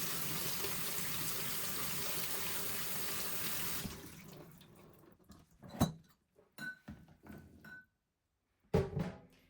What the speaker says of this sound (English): I'm going to rinse the kidney beans